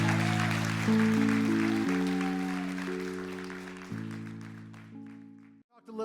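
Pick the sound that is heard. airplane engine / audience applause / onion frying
audience applause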